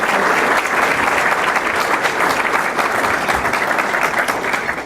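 An audience at a Chicago civic event claps in steady, dense applause for about five seconds, fading slightly at the end, with no voices over it.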